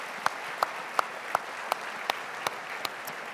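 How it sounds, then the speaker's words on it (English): Audience applause for Category 3 finalists at the Arkansas Business of the Year awards, an even bed of clapping punctuated by regular, evenly spaced sharp beats roughly every third of a second. "let's give these Category 3 finalists a round of applause"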